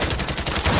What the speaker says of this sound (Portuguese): Tá atirando em mim, tio.